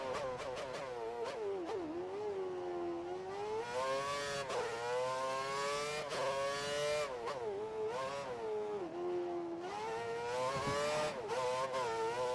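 A Formula 1 race car engine in a video game at Circuit of the Americas screams loud and close, its pitch climbing and dropping repeatedly through gear changes and corners across the whole run, with no voices.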